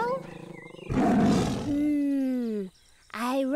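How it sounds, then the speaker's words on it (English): A Sumatran tiger roars loud and close in an animated wildlife scene, a harsh burst followed by a long, falling growl, with voiced tones before and after. "I recognize that sound. It must be a tiger."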